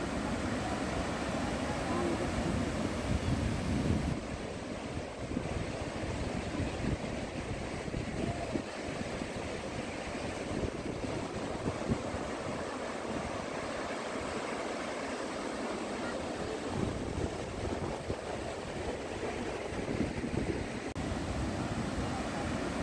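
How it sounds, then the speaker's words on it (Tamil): Shivanasamudra waterfall near Bangalore roars as a steady, broadband wash of rushing water with wind buffeting the microphone, heard continuously from a distant viewpoint without speech. "ஃபஸ்ட்டு வியூ பாயிண்ட்லேருந்து இந்த அருவியோட வியூ எவ்வளோ அழகாக இருக்குன்றதை நாம் இப்போ பார்க்கலாம்"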